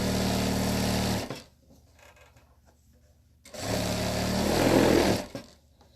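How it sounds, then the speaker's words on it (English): A sewing machine stitches elastic into the waistband of a pair of pants, running in two loud, steady bursts of about a second and two seconds with a quiet pause between them. "You just want to line it up and let it sew right into that stitch."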